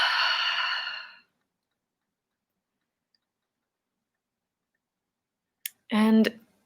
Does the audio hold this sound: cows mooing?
no